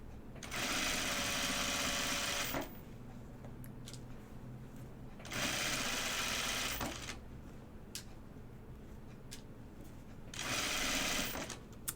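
A sewing machine stitches binding onto a dress placket in three sustained runs of a couple of seconds each, close and steady, separated by quieter pauses with small clicks and handling noises.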